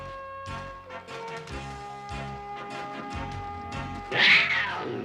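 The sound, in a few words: saber cat snarling in He-Man cartoon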